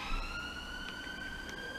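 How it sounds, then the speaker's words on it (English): An ambulance siren wails faintly on a nearby road, a steady high wavering tone heard from a distance against low background hum. "I think that was an ambulance"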